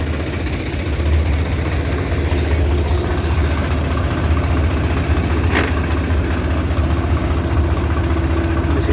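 A tractor engine idles steadily with a low, continuous rumble that stays even in loudness throughout.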